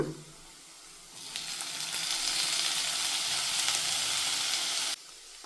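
Cooked field beans tipped into a hot pan for a traditional Ithkibele chitranna rice dish, setting off a loud, steady sizzle that swells after a quiet start, holds for about four seconds, then cuts back down.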